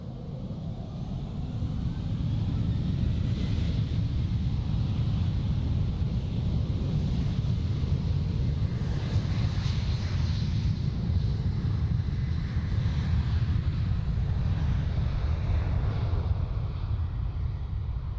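KLM airliner, flight KL1333, powering down the runway at Amsterdam Airport on its takeoff roll, a heavy steady jet engine roar heard from a distance over wind buffeting, sustained and unbroken throughout.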